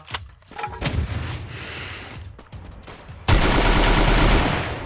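Gunfire in the Free Fire battle royale game: bursts of sharp, loud shots and rapid automatic fire, broken by brief pauses, then a dense, sustained volley in the final seconds.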